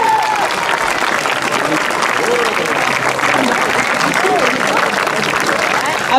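Steady, dense applause from an audience at a traditional Breton dance competition in Gourin, cheering the champion; loud and continuous throughout with scattered voices and whoops mixed in.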